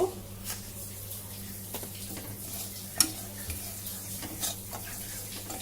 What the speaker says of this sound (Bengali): এবার নেড়ে দেব